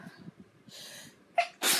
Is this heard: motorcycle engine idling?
no